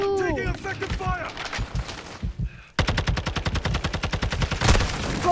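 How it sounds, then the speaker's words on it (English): Rapid automatic gunfire in Call of Duty: Modern Warfare, first scattered shots under a voice with game effects, then a loud, dense run of fast, evenly spaced bursts with a sharp blast near the end. "Taking effective fire."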